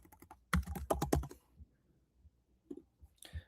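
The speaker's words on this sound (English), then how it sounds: "I'm going to go ahead and type in Indianapolis." A city name is typed on a computer keyboard in a quick close run of crisp keystrokes, then a pause and a few scattered single clicks.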